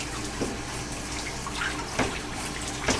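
Tap water running into a bathtub while a person's front is rinsed during an assisted bath, a steady close splashing stream with a few brief louder splashes and no talk.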